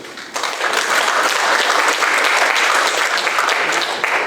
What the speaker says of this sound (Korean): 이 대목에 박수 한번 쳐주십시오.